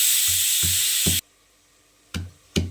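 Garlic and spices sauté in hot oil in a pan, giving a loud, steady sizzle with soft stirring knocks. The sizzle cuts off abruptly, then two short bursts return as stirring resumes.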